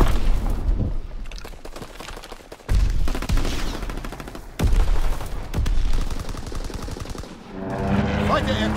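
Aircraft strafing gunfire in Call of Duty WWII, long rattling bursts of rapid shots broken by heavy impacts and short pauses, with in-game voice callouts and a speaking voice near the end.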